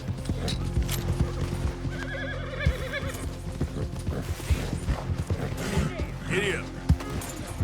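Horses in Red Dead Redemption 2 gallop with rapid, rhythmic hoofbeats, and a loud neigh and whinny cut through, alongside creaking tack and other game sounds.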